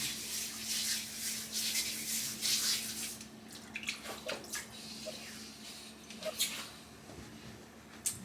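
Water from a bowl where shaving soap has been soaking is poured out during a head shave, splashing and trickling in bursts, louder at first and then thinning into intermittent drips and small pours close by.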